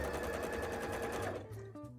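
Sewing machine stitching a Garbodor-themed bra, a steady fast mechanical whir that runs continuously for over a second, then slows and stops into quieter clicks near the end.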